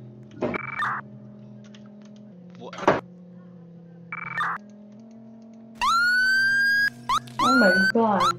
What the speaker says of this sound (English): Oh my god, the sirens.